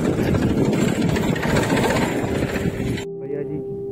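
A tractor engine runs loudly and close in a rural outdoor setting, a steady low rumble that cuts off sharply near the end, leaving a faint tone.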